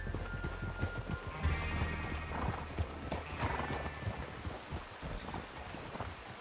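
Horse hooves clip-clop steadily in Red Dead Redemption 2, with a brief whinny near the start and faint background game ambience throughout.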